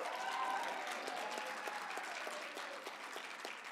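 Audience applause at a film symposium on Black women's filmmaking, a steady wash of many hands clapping that holds evenly throughout and thins slightly toward the end.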